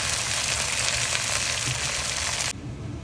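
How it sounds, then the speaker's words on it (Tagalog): Chicken wings coated in white and dark soy sauce, oyster sauce and garlic sizzle loudly in a hot pan during stir frying, a dense, continuous crackle that cuts off abruptly near the end. "stir fry na chicken wings"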